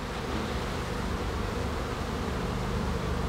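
Honey bees hum densely at an open hive during a colony inspection, a steady close swarm buzz that fills the whole moment with no talking.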